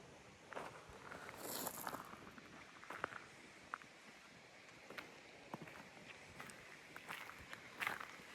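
Footsteps move through Mogollon, an abandoned mining town in New Mexico, as faint scattered steps and scuffs over soft wind and outdoor ambience, with no voices.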